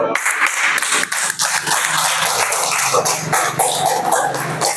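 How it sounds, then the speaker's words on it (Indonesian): Children in a classroom clap together in a sustained round of applause, dense overlapping claps that run loud and close for several seconds with a few coughs and voices mixed in. "Ya, tepuk tangan dulu."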